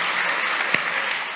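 An audience at a live talk event claps steadily in a dense, even wash of many hands, with one sharper clap standing out briefly near the middle.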